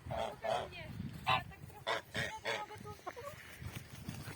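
Honking comes from Landes geese on a farm, with loud bursts sounding close by. They break out irregularly over a few seconds, with a quieter background voice underneath.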